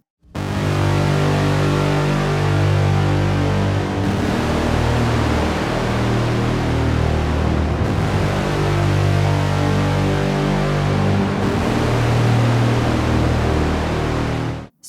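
A harp runs through a Polar Bear Effects Drowner fuzz pedal, producing a loud, unbroken wall of thick fuzzy noise that shifts roughly every four seconds and cuts off abruptly at the end.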